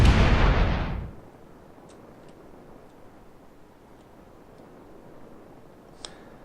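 A warhead detonates in the video game Space Engineers, one loud broadband boom lasting about a second that cuts off abruptly, followed by quiet ambience with a few faint clicks and a small tick near the end.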